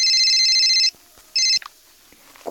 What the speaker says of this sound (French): La sonnerie de mon téléphone m'a effrayée.